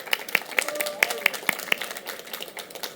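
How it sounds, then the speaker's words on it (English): An audience claps for comic artist Ivan Reis at a DC Comics art academy event, sharp individual claps standing out in a short, fairly close burst that thins and fades, with voices talking over it. "let's give a round of applause for the great Ivan Reis"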